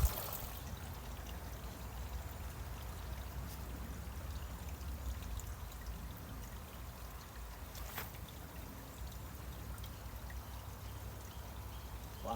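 Steady broadband rush of water pouring and trickling while aquaponic strawberry plants are washed out, continuous and fairly faint throughout with no talk.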